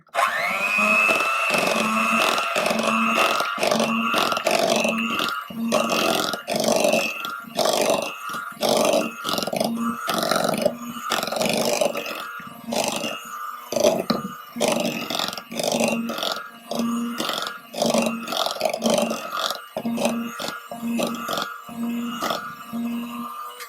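An electric mixer beats gelatin into a KitKat cheesecake mixture, giving a loud, steady motor whir with a rapid pulsing churn that runs the whole time without any voices.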